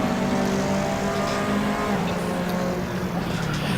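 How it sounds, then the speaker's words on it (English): A Corvette GTLM race car in the Assetto Corsa racing game, its engine note droning steadily and fairly loud through the whole stretch, with light tire noise and no talk over it. "God, that Corvette sounds good too."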